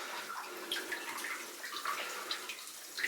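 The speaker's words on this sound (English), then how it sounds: "I can feel the icy cold water sloshing around the waders" Icy water sloshing around waders inside the flooded Thorndyke Mine, with soft, close splashing and trickling heard faintly and continuously, with no speech.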